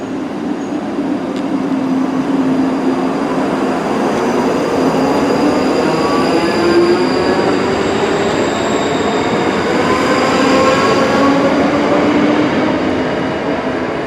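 A ScotRail train at Bearsden station on the Glasgow–Milngavie line gives a loud, steady rumble with a rising and falling electric whine and faint wheel squeal that swells and then holds for many seconds.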